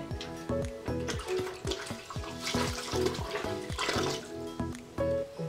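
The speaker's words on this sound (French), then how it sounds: "je mouille un peu le visage" Tap water runs steadily into a sink while someone wets their face during a facial skincare routine, with continuous splashing and trickling close by and no talk.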